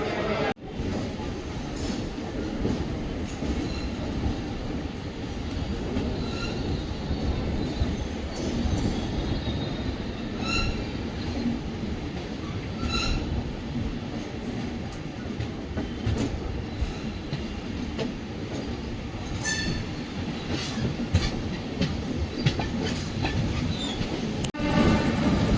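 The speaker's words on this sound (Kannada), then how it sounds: "ಪಕ್ಕದ ಪ್ಲ್ಯಾಟ್ಫಾರ್ಮ್ಗೆ ಪಕ್ಕದ ಟ್ರ್ಯಾಕಲ್ಲಿ ಬರ್ತಿದೆಯಲ್ಲ ಆ ಟ್ರೈನ್ ಬಂದ್ಬಿಟ್ಟು ಗಾಂಧಿಧಾಮಿಂದ ನಾಗರಕೈಲಿಗೆ ಬರುವ ವೀಕ್ಲಿ ಎಕ್ಸ್ಪ್ರೆಸ್" A weekly express train from Gandhidham passes on the adjacent track beside a moving sleeper-class train, giving a continuous loud rumble of rolling wagons with rhythmic wheel clatter and occasional high metallic squeals throughout.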